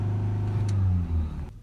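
A Mercedes E220 diesel engine with a particulate filter fault, held at about 3000 RPM, hums steadily and loud and close with a continuous droning tone before easing off near the end.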